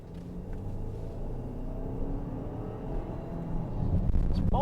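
Range Rover climbing a road, a low, even rumble of the vehicle in motion from inside the cabin, swelling slightly louder near the end.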